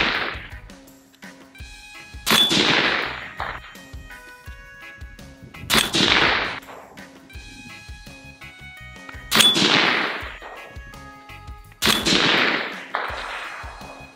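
A PWS MK216 Mod 1-M .308 piston AR-10 fitted with a Bowers Group Verse 30 Ti suppressor fires four loud, evenly spaced shots outdoors, each a sharp crack followed by a muffled decay.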